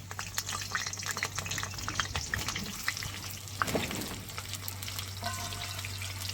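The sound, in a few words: potatoes and pointed gourd frying in oil in a wok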